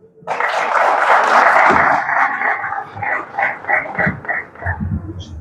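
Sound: audience applause at a poetry festival

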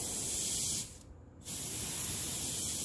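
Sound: vintage airbrush spraying paint

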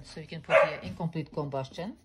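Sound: dogs barking

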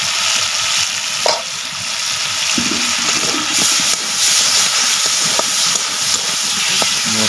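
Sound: masala spices frying in a pan

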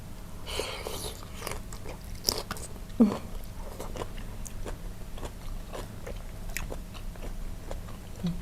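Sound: eating crispy shrimp, crunchy bites

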